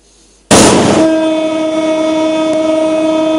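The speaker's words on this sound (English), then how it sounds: "The train continued on its journey." A train on a coastal railway line in Sri Lanka sounds a sudden, loud, sustained horn blast that rings on steadily after a sharp onset, close by and alone.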